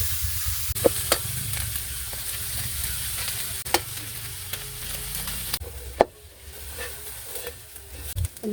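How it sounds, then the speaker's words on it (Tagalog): Cabbage frying in a pan with fermented shrimp paste, a loud continuous sizzle with scattered scraping knocks of a utensil stirring it, close by and without talk. "Lagyan na natin itong repolyo."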